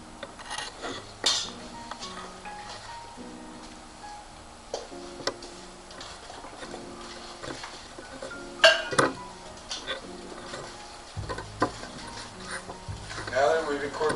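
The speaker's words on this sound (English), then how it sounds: "And stirring with a solid wooden spoon." Bread dough is stirred with a solid wooden spoon in a bowl, producing repeated dull knocks and scraping clinks at a steady rhythm, close and moderately quiet, mixed with background music.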